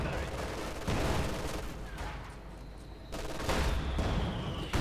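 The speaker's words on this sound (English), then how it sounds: "Shots fired, missed. Round grenades going off." Gunfire and grenade blasts from Company of Heroes 2, a real-time World War II strategy game, as a volley of shots bursts out and then picks up again, with talking over the battle throughout.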